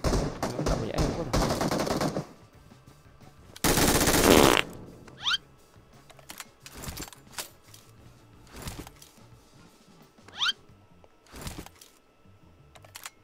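M4 rifle gunfire in the battle game PUBG, with a dense burst of automatic fire up front, a loud close blast, then scattered single shots and short bursts at varying distance.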